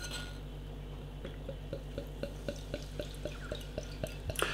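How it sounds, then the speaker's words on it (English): Bayreuther Bock beer poured from a bottle into a glass, a faint steady trickle with a series of small regular clinks and drips, quiet and close. "Beer in the glass then."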